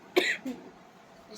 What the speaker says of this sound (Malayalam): എനിക്ക് ചിരിക്കാൻ പോലും ഭയങ്കര ചുമയാണ്.